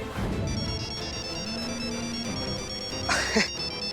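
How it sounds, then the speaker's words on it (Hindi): A phone ringtone plays as steady electronic tones over background noise, with a brief louder burst near the end. "हमारा भी फोन आ गया"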